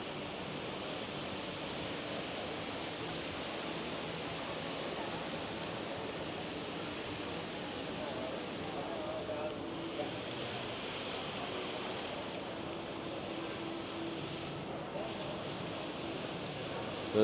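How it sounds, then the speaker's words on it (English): Steady rushing of an indoor artificial waterfall in a Bangkok shopping mall fills the space, a constant broadband wash with no clear breaks, echoing softly. "this is the waterfall"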